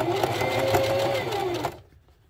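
A sewing machine runs steadily, its rapid mechanical stitching close and loud as it sews the feet bottoms onto a plush dinosaur, then stops abruptly near the end, leaving quiet.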